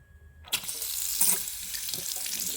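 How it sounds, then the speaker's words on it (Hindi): Water runs from a tap into a sink while someone brushes their teeth: after a quiet moment the faucet opens with a gush and settles into a steady, close hissing stream. No one speaks. "जब आप पानी का यूज़ नहीं कर रहे हैं तो आपने नल को बंद कर देना है"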